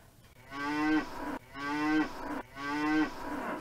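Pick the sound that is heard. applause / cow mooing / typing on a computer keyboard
cow mooing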